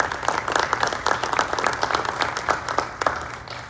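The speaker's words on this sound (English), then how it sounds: "I'd like to give them a round of applause." A round of applause fills a school board of education meeting, steady group clapping with sharp individual claps standing out, moderately loud and continuing throughout without speech.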